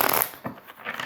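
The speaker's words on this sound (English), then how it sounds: "Just going to shuffle a couple more times like this" Tarot deck being shuffled by hand, a short papery riffle of cards close up, quiet and alone.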